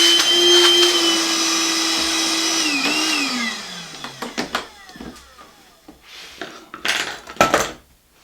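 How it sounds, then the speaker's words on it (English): A vacuum cleaner drones loudly and steadily while cleaning out workbench dog holes, its motor pitch sliding down as it powers off, followed by scattered knocks and clatter. "A little bit of vacuum noise for you."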